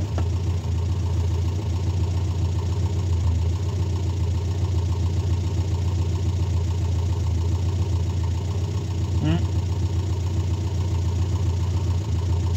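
A car engine idles steadily for several seconds, with a constant low rumble and a faint mechanical whine that stays at even loudness.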